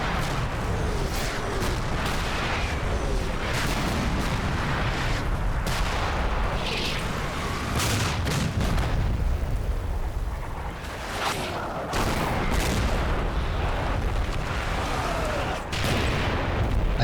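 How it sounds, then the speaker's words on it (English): A German artillery barrage in the Combat Mission wargame (Operation Epsom, Odon bridges) pounds the objective: repeated heavy booms and crashing impacts over a continuous roar of fire, near and loud throughout. "Without warning, Jerry artillery starts to fall on objective Don John."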